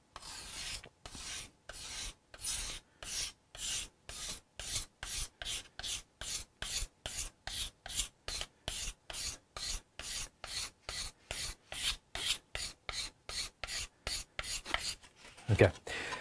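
Hand scraper working the wood of a Hofner Galaxie guitar during restoration, with dozens of quick, evenly spaced rasping strokes in a steady back-and-forth rhythm, close and crisp, ending with a brief louder knock.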